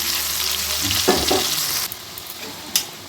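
Spice paste sizzles and fries in a pan with chicken, a bright continuous crackle with a few stirring scrapes and soft clinks.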